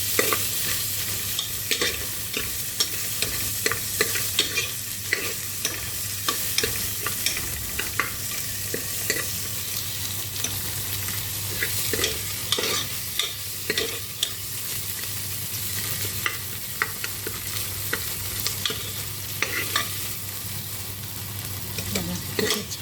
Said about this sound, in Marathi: तेलामध्ये हे छान असं परतून